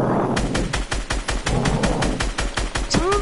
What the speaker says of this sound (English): someone's shooting us behind.